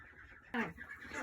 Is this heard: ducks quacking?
yes